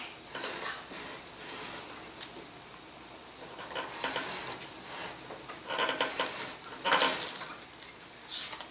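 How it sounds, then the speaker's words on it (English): Sandpaper rubs the top surface of a small 13mm rocket glider's tail stabilizer, a series of quiet, close raspy strokes in irregular bursts with short pauses between, no talk. "We're going to just come in here and sand this off."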